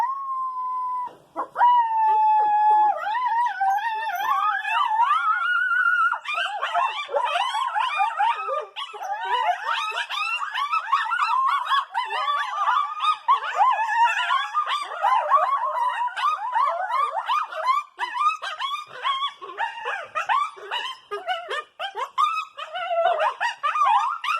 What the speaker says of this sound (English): I'm not a great singer, but these coyotes are